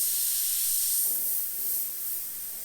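An airbrush sprays paint onto a skull design through AirShot templates, giving a steady, close, breathy hiss that swells and eases slightly over a few seconds.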